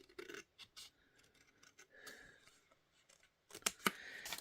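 Scissors cut craft material close by in short, uneven snips and rustles. A few sharper clicks come near the end, with no talk.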